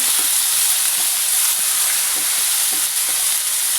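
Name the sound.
ginger garlic added to the pan, frying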